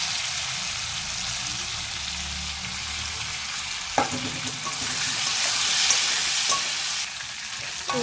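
Potatoes frying in a pan with green chili and tomato, stirred now and then; a steady close sizzle with a sharp clatter near the middle and a brighter, louder burst of frying toward the end.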